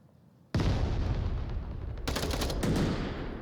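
Rifle fire in the VR shooter Onward erupts suddenly after a quiet moment, sustained loud bursts of shots continuing nonstop, with sharper volleys and echoing blasts layered in toward the end.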